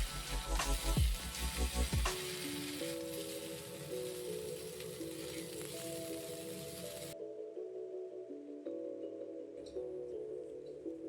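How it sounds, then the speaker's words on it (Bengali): Mixed vegetables and fried spice tempering sizzle in a pan as they are stirred, a steady close hiss with a couple of utensil knocks early on, under continuous background music. "সবজিটার সঙ্গে ফোড়নটা ভালোভাবে নাড়াচাড়া করে নিলাম"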